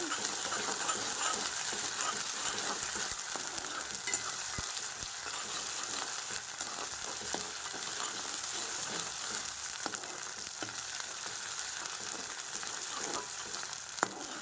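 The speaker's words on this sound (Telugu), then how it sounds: "ఇలా ఆనియన్స్ వేగేటప్పుడు ఒక స్పూన్ అల్లం వెల్లుల్లి పేస్ట్ కూడా వేసుకోవాలండి" Onions fry with ginger garlic paste in a pan for a spring onion and tomato curry, a steady bright sizzle with soft scraping stirs now and then, close and continuous with no talking.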